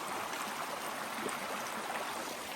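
A small stream flowing beside a hiking trail near a bridge, a steady broadband rush and babble of water, close and continuous with no voices.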